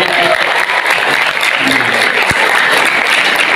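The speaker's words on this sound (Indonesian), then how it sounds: "Tepuk tangan yang meriah." Loud, lively applause from a crowd at a school prize-giving ceremony with the Mojokerto Raya education branch head, a dense continuous roar of clapping close by, with a single sharp thump partway through.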